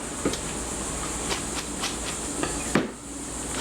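Hot pasta water drains steadily into a sink with a constant hiss and splash, broken by a few soft clunks and taps, close by, with no voices.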